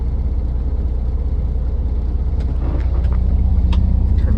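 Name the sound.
truck engine idling before being switched off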